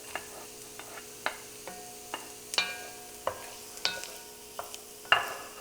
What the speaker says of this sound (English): We are now adding the carrots.